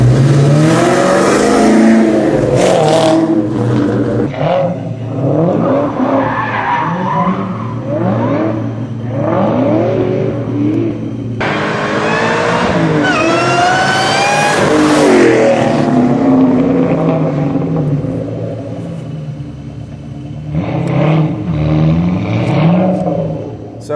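A sports car with an aftermarket exhaust revs hard through repeated bursts, loud rising and falling engine notes with tire squeal and skidding between pulls, close and continuous with short pauses.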